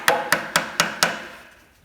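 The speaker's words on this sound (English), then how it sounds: "Let's see if I can get a screwdriver in this gap." Five sharp metallic taps or knocks in an even rhythm, close and fairly loud, as a screwdriver is worked into a gap among the coils of a 2.7kVA generator that has no voltage output, each strike ringing briefly before fading.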